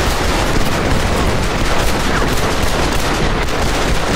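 Dense, continuous gunfire from a multiplayer showdown in the Western video game Red Dead Redemption, loud overlapping shots and blasts with no pauses.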